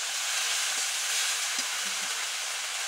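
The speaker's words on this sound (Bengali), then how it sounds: "আমি এই তেলে দিয়ে দিব দুধ কচু পাতা, লবণ, এগুলো আমি নাড়াচাড়া দিয়ে কিছুক্ষণ ঢেকে রাখবো।" Taro leaves with salt and green chilli sizzle gently in hot oil as they are stirred, a faint, steady frying hiss with a few soft scraping touches.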